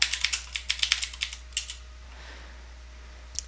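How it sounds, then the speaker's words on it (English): Computer keyboard typing, a quick burst of about a dozen crisp close keystrokes followed by quiet and one final isolated key press. "Now let's type git status."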